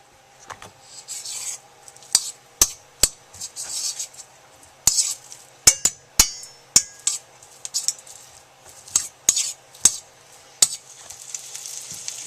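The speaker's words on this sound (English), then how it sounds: "Once the bacon is cooked enough to coat the pan really well with bacon grease, go ahead and remove the bacon." Bacon fries in a pan with a faint continuous crackle, broken by repeated sharp scraping and clicking strokes of a utensil against the pan.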